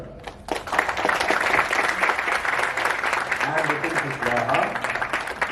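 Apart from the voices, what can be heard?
audience clapping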